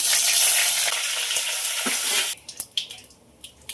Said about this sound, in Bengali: ওই তেলের মধ্যে দিয়ে দেবো তেজপাতা